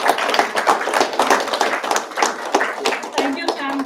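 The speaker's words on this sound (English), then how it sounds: "a round of applause to both of you." Applause at a work anniversary celebration, continuous clapping from a small group throughout, with voices audible alongside.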